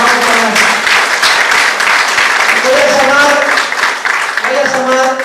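Audience applause at a union gathering of ATE and CTA honoring peasant struggles of the seventies, loud and sustained for about five seconds, with voices and shouts mixed into the clapping.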